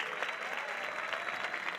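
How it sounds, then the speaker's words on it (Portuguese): Steady applause from an audience, many hands clapping evenly for a short stretch. "Um aplauso para Miguel."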